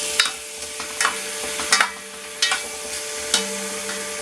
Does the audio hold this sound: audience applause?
no